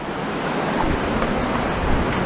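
A North Cascades creek flowing over Skagit Gneiss gives a close, steady broadband rush of water, unbroken for a couple of seconds.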